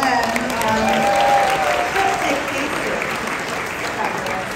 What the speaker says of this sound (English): round of applause for Lynn